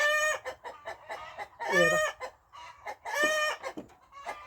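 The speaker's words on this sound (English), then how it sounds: "the cockerel next door and my cockerel are having a war of words" Two neighbouring cockerels crowing back and forth at a cabin, with loud, drawn-out crows and clucks overlapping, close by; a brief voice is heard.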